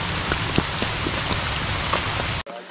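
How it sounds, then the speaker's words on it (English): Steady rain patters on surfaces around hikers walking the Appalachian Trail in Shenandoah National Park, a dense, continuous hiss with scattered drop taps before cutting off abruptly near the end. "We're still walking in the rain."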